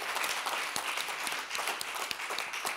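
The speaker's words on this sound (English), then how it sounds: "Please give them a huge round of applause." A crowd claps for the judges at an innovation fellowship pitch final, a brief burst of steady, fairly full applause throughout.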